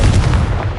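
Confringo blasting spell explosion in Hogwarts Legacy, a single dense, booming burst that fills the whole brief moment, loud and close with a low rumbling body.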